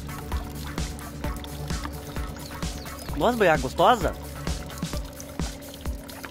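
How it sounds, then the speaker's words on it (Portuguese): Spring water runs down from a mountain through rocks and trickles from a spout into a bottle, a steady soft pour beneath close, continuous conversation. "vem lá de cima da montanha, cai aqui por dentro das pedras e a mãe pega ali, ó"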